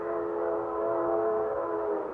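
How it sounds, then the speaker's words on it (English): A steady, sustained train whistle in a radio drama, holding a rich chord-like tone throughout at moderate loudness with no voices over it. "Oh, that train whistle."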